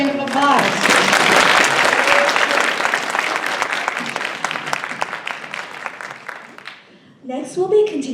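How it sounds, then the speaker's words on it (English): Audience applause at a university culture night after a performance, loud and sustained for several seconds before fading, with a voice coming in at the end. "Let's give him another round of applause."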